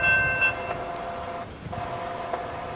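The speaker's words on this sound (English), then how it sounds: "Warning, a train is approaching the crossing." A SEPTA push-pull commuter train at a Lansdale grade crossing, heard as a steady loud rumble of the passing train with a brief high tone early on and a faint horn-like tone later, and no talking.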